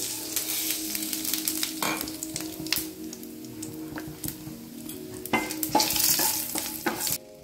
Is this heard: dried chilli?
yes